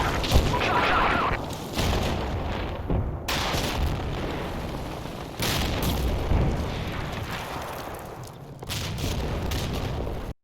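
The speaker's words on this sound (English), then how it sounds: "Artillery strikes along the forest lines" Artillery strikes in Combat Mission Black Sea along forest lines: heavy booming explosions rolling one after another, loud and close, with brief gaps between blasts.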